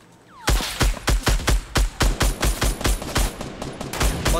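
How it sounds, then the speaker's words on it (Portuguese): Gunfire in Fortnite opens after a brief quiet moment into a loud, regular string of about fourteen close shots, evenly spaced bursts with sharp cracks and booming low ends. "Eu tô levando tiro de outro lado."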